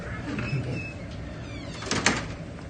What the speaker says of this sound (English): Hope so, because I'm closing the door.